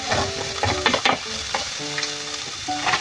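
Ginger sautéing in hot oil in a pan, the first step for fish tausi: a steady sizzle and crackle runs throughout, with several utensil clinks and scrapes as it is stirred, and no talking.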